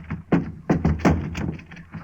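Several heavy, hollow thumps land in quick irregular succession as a locked wooden wagon door is kicked, each blow close and dull with a short resonant boom.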